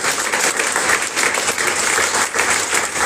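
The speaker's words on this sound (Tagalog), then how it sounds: "The best na palakpak muna sa Panginoon." A church congregation applauds the Lord at a worship service, dense sustained clapping from many hands filling the room without a break for about three seconds.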